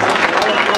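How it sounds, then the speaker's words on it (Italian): Applause from the audience at an international team fishing championship ceremony, a dense steady patter of clapping with crowd noise filling the short moment. "Un doppio applauso per questa persona."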